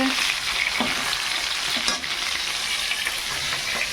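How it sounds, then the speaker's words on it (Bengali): Fish fries in a pan of oil, giving a loud, dense, close sizzle with a few sharper spits and crackles throughout. "আমি মাছটা ভেজে নিই আগে মাছ ভেজে নিই"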